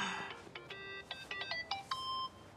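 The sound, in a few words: phone ringtone in the video game Yakuza 8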